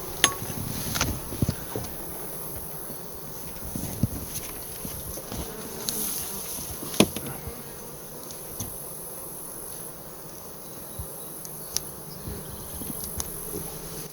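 Honey bees hum around an opened hive in a continuous, moderately quiet buzz. Scattered soft taps and knocks from handling the hive sit close by, and there is no talk.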